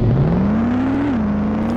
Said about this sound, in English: Whoa, that's a loud engine.